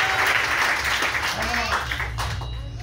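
A church congregation applauds the Lord in a steady burst of clapping and cheering that fades slightly toward the end, with voices mixed in.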